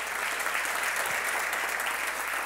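A church congregation applauds together in a steady, dense roar of clapping that fills the room evenly from start to finish, loud and without pause.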